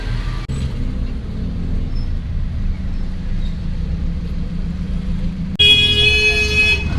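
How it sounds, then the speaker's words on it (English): Busy main-street traffic in Nazca, Peru: a loud, steady roar of cars and buses close by, with a sudden sharp horn blast near the end cutting over the din. "this is one of the main streets anyway, so it's very noisy, lots of cars"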